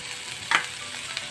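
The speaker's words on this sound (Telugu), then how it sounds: "4 వెల్లుల్లి రేకులు వేస్తున్నాను." Four garlic slices frying in a pan for peanut dosa chutney, a steady moderate sizzle with a brief louder crackle as they hit the oil, no voices.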